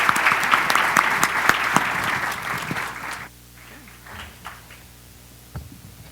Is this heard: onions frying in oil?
no